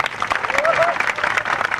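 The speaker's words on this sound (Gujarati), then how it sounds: "અમારે વિક્રમ કાકા માટે જોરદાર તાળીઓ થઈ જાય" Enthusiastic applause for Vikram Thakor at a Thakor community gathering, a loud dense burst of clapping from a crowd with cheering voices and a short whistle-like call mixed in.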